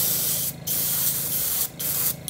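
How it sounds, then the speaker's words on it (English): Opaque yellow paint sprayed onto the bottom of a crankbait fishing lure from an airbrush, a steady close hiss that breaks off briefly twice, with no talking. "take some opaque yellow and spray every bit of the bait at the bottom"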